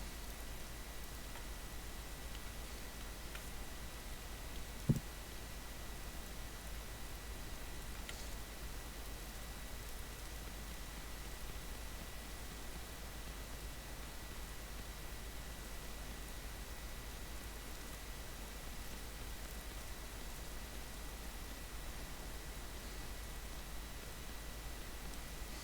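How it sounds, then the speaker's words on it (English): Steady rain falls in the survival game Vintage Story, a constant soft hiss with no distinct drops, heard alone throughout at a low, even level. "This rain is going to be a problem because it will put out our pit kiln fires."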